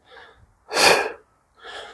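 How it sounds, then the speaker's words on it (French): Heavy exercise breathing during a bodyweight workout session: a faint inhale, then a loud, forceful exhale and another soft breath. The breaths are close-up and rhythmic, with short silences between them. "On inspire lors de la descente et on expire lors de la montée."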